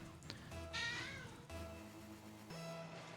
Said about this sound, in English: I thought the cat meow at me